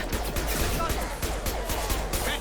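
Rapid gunfire from shooting enemies in Mass Effect Legendary Edition, a dense crackling barrage with sharp repeated shots over a busy game soundscape, some voice mixed in.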